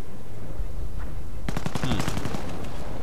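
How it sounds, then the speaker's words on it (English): Mortar bombardment in Company of Heroes comes in as a sudden burst of rapid, crackling explosive reports over an otherwise quiet battlefield, its loud salvo continuing to the end. "Oh, a mortar."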